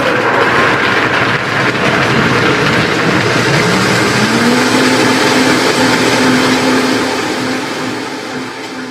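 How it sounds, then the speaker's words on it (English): A kitchen blender whirs loud and steady while blending sprouted buckwheat nut milk, its motor pitch shifting partway through before the sound gradually eases toward the end. "So let's just blend this up here for a minute."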